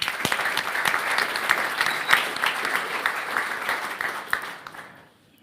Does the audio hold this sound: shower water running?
no